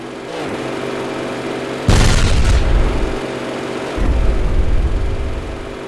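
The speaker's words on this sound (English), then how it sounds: "Lob a couple shells over the hill, see what we might be able to hit." Artillery shells fire in a combat video game, with two heavy booming blasts a couple of seconds apart over a steady engine-like rumble, loud and close, and no talking.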